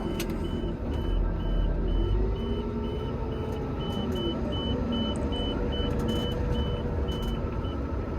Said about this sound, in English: stop that blooming beeping reverse beeper telling me I'm about to hit something